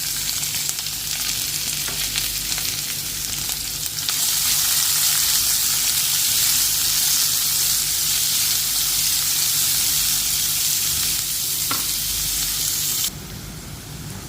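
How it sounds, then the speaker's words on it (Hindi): Chopped onion sautés in a hot pan for a home-style aloo keema, giving a steady, loud sizzle with a bright hiss that swells and holds before easing slightly near the end, with faint stirring scrapes mixed in. "अब इसे थोड़ा सौते करेंगे। अब इसमें हम ओनियन ऐड कर देंगे।"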